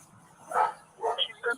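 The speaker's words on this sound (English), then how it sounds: "Just make sure that dog don't come out." A dog gives a few short barks and yips nearby, brief and moderately loud in an otherwise quiet outdoor scene.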